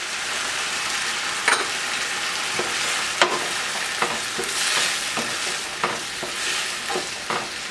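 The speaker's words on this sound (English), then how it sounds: "Stir it up. We're going to add our fish sauce and then our soy sauce." Lemongrass beef stir-frying in a hot pan with fish sauce and soy sauce, a loud continuous sizzle broken by repeated scraping stirs every second or so, close up and without voices.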